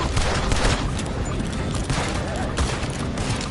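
Heavy gunfire from Red Dead Redemption II, with dense overlapping shots and rattling volleys that continue without a break, loud and close.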